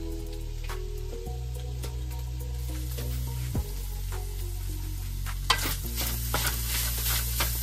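Something fries in a pan until it browns, for a Filipino-style spaghetti dish, with a constant close sizzle under a low hum and occasional scraping stirs and clinks of a utensil.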